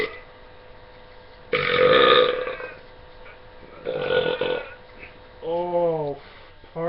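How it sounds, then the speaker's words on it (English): A man lets out two long, loud belches separated by a pause, each a rough, rasping rumble, followed by a brief stretch of his voice. "I tend to belch a lot"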